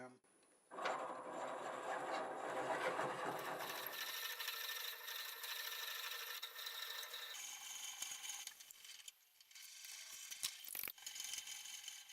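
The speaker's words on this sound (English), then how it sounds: "I decided I'm going to go ahead and drill some of it out" A 1 1/8 inch drill bit at about 300 RPM grinds steadily into very hard black locust wood with a rough, rasping whine that shifts pitch partway through, then slows, stops and restarts briefly.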